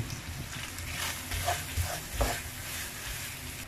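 Garam masala is stirred into a pan of pepper liver fry, a soft scraping and shuffling of the spoon over a low background sizzle, close and fairly quiet, with a few louder strokes.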